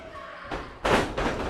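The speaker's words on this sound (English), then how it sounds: "A shot to LeGrande" Strikes land in a pro wrestling match, heard as two or three heavy, booming thuds in quick succession against a loud arena background.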